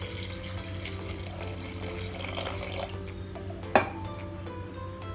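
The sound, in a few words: water poured into dal and pumpkin in pot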